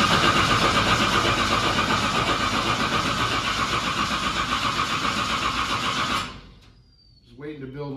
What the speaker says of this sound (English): We're going to crank the motor over.